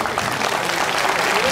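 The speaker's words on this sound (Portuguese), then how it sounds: "Olha, aplaudir mais, né?" Continuous crowd applause fills a political rally for João Doria's party primaries in São Paulo's east zone, a dense, steady wash of clapping from many hands throughout.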